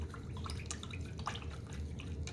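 A paintbrush is rinsed in a water cup during an acrylic mountain landscape painting, giving soft dripping and sloshing water sounds with scattered small splashes, fairly quiet and continuous, with no talking.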